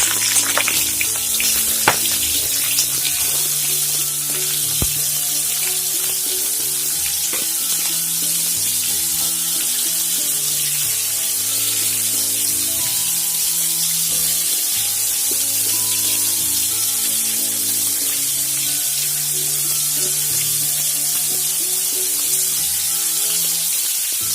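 Fish pieces fry in hot oil for a fish molee, giving a loud, steady, close sizzle with a broad hiss that keeps going throughout and has faint clinks from the pan underneath.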